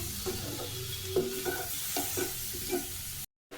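Spices are stirred into capsicum and potato in a pan, with a series of close scraping strokes at a roughly even rhythm over a low sizzle, then an abrupt cut to silence near the end; no one speaks.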